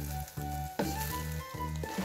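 Chinese rice with chunks of chicken sizzling in a pan while being stirred, a steady close fry broken by a few scraping stirs, no talking.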